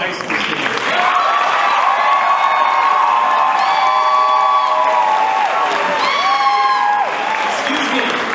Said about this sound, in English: Can we please give one more round of applause to these fellow high school students?